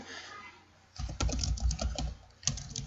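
Fingers tap quickly on a computer keyboard, a close, clicky burst of keystrokes with short pauses, entering text into an online forum editor.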